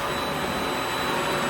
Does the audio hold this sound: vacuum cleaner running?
yes